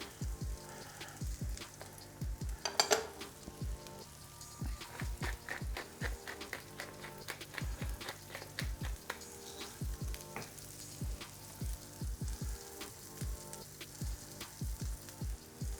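Beyond Burger plant-based patties fry in a pan with coconut oil, giving a quiet, close sizzle with many crisp irregular pops and spatters over a soft bubbling bed, with no voices.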